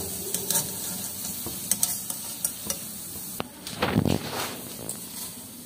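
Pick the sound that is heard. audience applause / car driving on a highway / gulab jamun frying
gulab jamun frying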